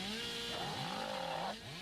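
Hillbilly's chainsaw revving in the Dead by Daylight video game, a faint, steady motor drone with rising and falling pitch that swells in the middle and eases off near the end of a short burst.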